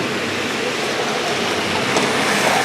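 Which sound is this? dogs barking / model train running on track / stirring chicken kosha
model train running on track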